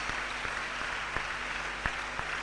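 An audience at an annual day event applauds an intern, a steady wash of clapping from a crowd with a few sharper claps standing out, moderately distant and continuous throughout.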